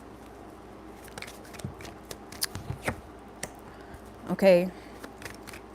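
Tarot cards being shuffled by hand, with scattered crisp ticks and riffles, then a short spoken word and a brief louder flutter near the end.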